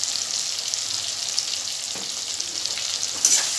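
Chili powder, salt and spices sautéing in a pan for a vegetarian cabbage dish, giving a steady, even sizzle throughout with a faint clink near the end and no talk.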